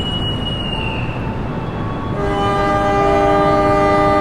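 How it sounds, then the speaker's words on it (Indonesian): The Sancaka Utara train pulls away from a station bound for Surabaya Pasar Turi, a loud continuous rumble of rolling wagons joined by a sustained tonal horn or whistle that swells toward the end, with no voices. "Sancaka Utara balik melanjutkan perjalanan menuju ke tujuan akhir Surabaya Pasar Turi ya teman-teman"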